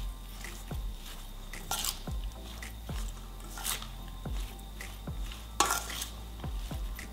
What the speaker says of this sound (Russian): И это нам нужно хорошенечко